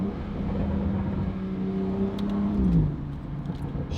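A BMW N55 engine with a Valvetronic valved sport exhaust hums and builds under load, rising in pitch before a gear change near the end, heard from inside the car with a low steady rumble and no talking.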